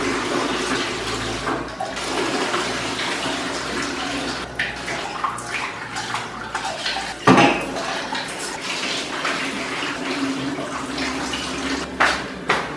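Hot water drained from a pot of cooked pasta into a kitchen sink, splashing and rushing with clanks of the metal pot, continuous and close.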